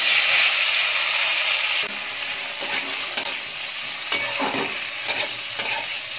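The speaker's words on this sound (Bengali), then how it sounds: "এদিকে দেখো এটা হালকা করে ভেজে নেওয়া হয়ে গেছে" Sliced tomato, capsicum and ginger fry in oil in a wok with a soft, steady sizzle, broken by several sharp scraping strokes of a spatula stirring the vegetables.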